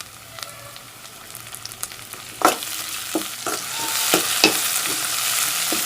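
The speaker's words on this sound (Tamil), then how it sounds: "வெங்காயம் நல்லா வதக்குனதுக்கப்புறம் தக்காளி நம்ம போட்டால் போதும்." Onions and tomatoes sautéing in a pan for a chicken gravy: a soft sizzle that swells louder partway through, punctuated by sharp clinks and scrapes of a stirring spoon, nearby and without speech.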